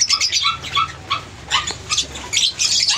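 Opaline split pied budgerigars in a mini aviary let out a run of bright chirps and short squawky calls in uneven bursts, close and moderately loud, with no talking.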